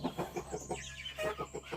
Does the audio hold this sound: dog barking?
no